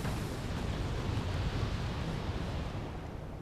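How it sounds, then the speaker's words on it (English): Sustained rumbling barrage from a multiple rocket launcher bombarding enemy positions in the real-time strategy game Wargame: European Escalation, a dense continuous low roar of overlapping distant impacts with no talk. "Multiple rocket launcher is bombarding the enemy now"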